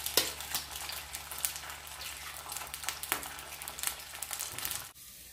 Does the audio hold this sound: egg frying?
yes